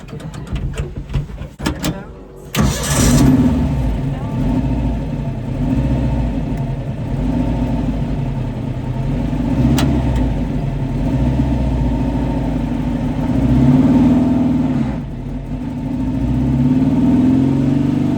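An old car engine in a Karmann sand car roars to life and revs steadily, a loud, rough mid-pitched drone that rises and falls, heard up close without talk.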